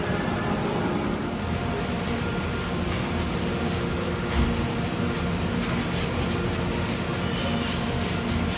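A steady, rumbling train noise fills the whole stretch, a continuous low drone with hiss, like a train idling or passing at a station platform.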